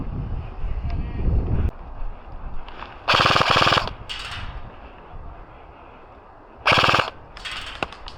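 Airsoft guns firing during an outdoor game, with two loud rattling bursts of rapid shots and fainter shots and clicks between them, over wind noise.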